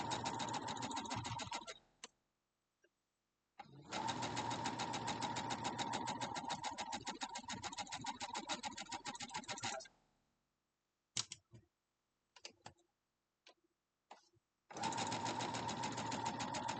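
Sewing machine stitching a quilt block seam along a quarter-inch guide: two long stretches of fast, even mechanical whirring, a short pause with scattered clicks, then stitching resumes; no talking.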